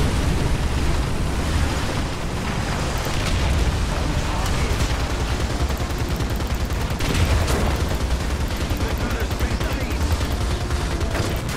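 A tank's turret blowing apart from an ammunition hit in the War Thunder video game, heard as continuous dense booming and gunfire throughout a loud battle, with sharp bursts near the middle.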